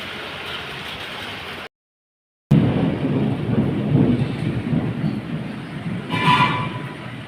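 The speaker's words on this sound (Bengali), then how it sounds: "শুরু হয়ে গেছে বৃষ্টি।" Rain beginning to fall outdoors, a steady broad hiss with deep rumbling thunder rolling underneath, briefly cut to silence near the start, then resuming with a louder surge toward the end.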